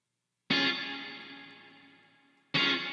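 A clean neo soul electric guitar chord rings out with a long reverb trail that fades gradually over two seconds before a second strummed chord enters, with no talking over it.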